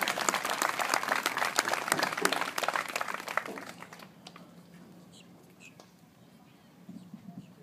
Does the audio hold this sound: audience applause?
yes